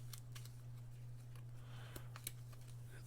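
Board game cards from a Resident Evil 2 board game are shuffled by hand, a faint soft riffling and flicking with a few sharper snaps over a steady low mains hum, no talking.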